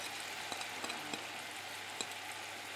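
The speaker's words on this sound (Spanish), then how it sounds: "aquí pues vamos a poner la cebollita y el ajito, que ya lo tenemos laminado" Sliced onion and garlic frying in a pan, a steady soft sizzle throughout with a few brief clicks and stirring knocks, faint and fairly close, no talking.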